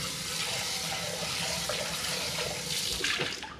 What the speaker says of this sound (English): Just a quick rinse.